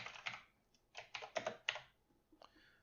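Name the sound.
typing on a computer keyboard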